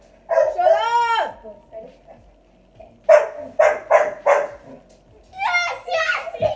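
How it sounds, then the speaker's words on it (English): Dogs bark in several short bursts, loud and near, at first alone and then again between bouts of children's voices talking nearby. "Sorry about the dogs."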